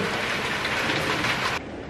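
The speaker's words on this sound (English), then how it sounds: "It kind of feels good that it's raining and I'm at home." Steady heavy rain pours down outside a home in a dense, even hiss, with no clear thunder clap standing out before the sound briefly thins at the end.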